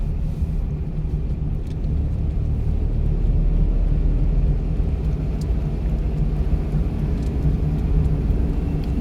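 A car engine is revved as the accelerator is pressed, producing a steady, loud low rumble that swells slightly after the first second and holds for several seconds with no talk over it.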